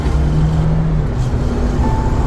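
Turbo petrol Mahindra Thar engine at full throttle after downshifting to second: a loud, close, rough engine roar with a rising tone, heard throughout without talk.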